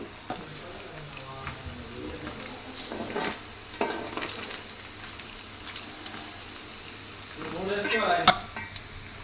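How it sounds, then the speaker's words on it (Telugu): Chicken pieces fry in oil, a crackling sizzle broken by scraping stirs, louder near the end, with some voice in the background. "ఇలా ఆయిల్లో కలుపుతూ ఉండాలి గోల్డెన్ బ్రౌన్ కలర్ వచ్చే వరకు అలానే ఆయిల్లో ఉండ ఉండనివ్వాలి"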